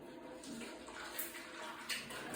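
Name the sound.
liquid being poured in a chemistry lab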